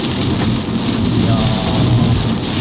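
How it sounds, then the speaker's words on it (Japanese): Heavy sudden downpour drums hard and steadily on surfaces around a vehicle, a loud dense wash of rain with no voices. "今でもまあ降ってるじゃん。"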